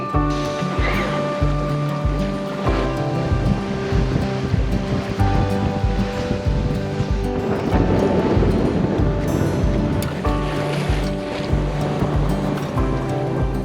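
Steady wash of waves and water rushing past a sailing boat's hull at about 6 knots, with wind noise and a low engine-like hum throughout, louder surges around the middle.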